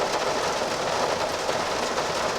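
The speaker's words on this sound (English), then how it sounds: "The rain is keeping me awake" Steady, dense patter of rain drumming on the roof of a 1969 Baja micro camper, constant and close with no pauses or voices.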